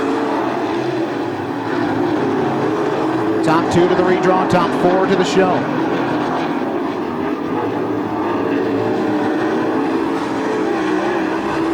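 American Ethanol late model race cars roar around Attica Raceway Park in a heat race, a loud, continuous engine drone with passing surges, under a commentator's running play-by-play.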